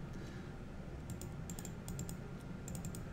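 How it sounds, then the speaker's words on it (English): Computer keyboard typing in short bursts of clicks during a Thursday night legacy game session, moderately close over a steady low room hum, with no talking. "I'm the one typing."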